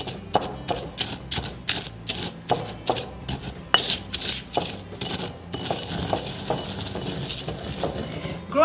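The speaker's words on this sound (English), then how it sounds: "So I'm going to have my mortar and pestle, just mix this together." A mortar and pestle pounds spices for a braise in quick, regular knocks, then shifts to a denser, rougher grinding and scraping near the end, loud and close with no voices.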